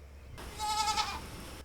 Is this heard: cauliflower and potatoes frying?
no